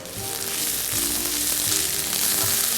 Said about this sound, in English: Onions, keep a watch, brown them